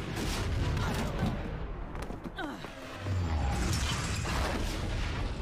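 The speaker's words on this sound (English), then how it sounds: "Explode!" Explosions and blaster fire from a Star Wars animated show echo in dense, rumbling bursts, loud and continuous with booming impacts throughout.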